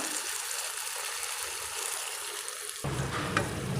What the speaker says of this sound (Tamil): இப்போ நாம் தேவையான அளவு தண்ணி சேர்த்துக்கலாம்